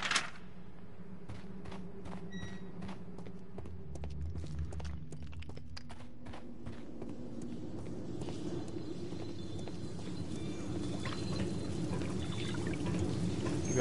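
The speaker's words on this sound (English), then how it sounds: "We have waterfalls again." Water pours and splashes steadily from a waterfall in the video game Sherlock Holmes: The Devil's Daughter, a continuous rushing wash with scattered footsteps and clicks, growing slightly fuller toward the end.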